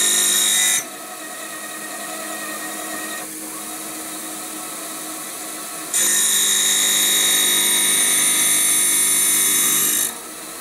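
A Prosharp AS 2001 skate sharpener grinds a hockey skate blade with an Ellipse Zero profile, giving a loud, steady high-pitched whine that drops to a quieter hum midway, then surges back loud before cutting off near the end.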